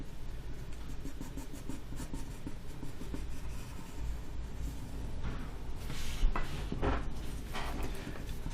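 Pencil drawing on paper in steady, continuous scratchy strokes while sketching a clothed human figure, close and fairly loud, with no voices over it.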